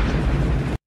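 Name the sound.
grenade exploding in a film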